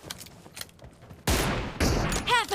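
Gunfire in the mobile battle royale game PUBG Mobile: a loud, sudden burst of rapid shots breaks in halfway through and keeps going, following quieter game sounds.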